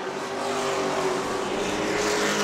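Sportsman race cars roar around the track at New Smyrna during a 25-lap race, a loud sustained engine drone that swells slightly as the field passes close by.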